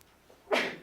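A single short sneeze bursts out in a quiet room during a math lesson, sharp and breathy, cutting off quickly after a faint intake beforehand.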